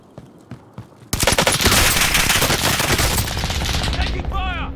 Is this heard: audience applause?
no